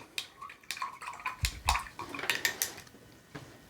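A watercolor brush swished and tapped in a container of clean water, giving faint, close clinks and small splashy rinsing sounds in quick succession.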